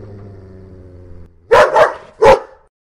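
Dog Teddy creeping into a haunted house in a horror audio drama: a low, drawn-out growling whine, then three sharp, loud bark-like yelps close by.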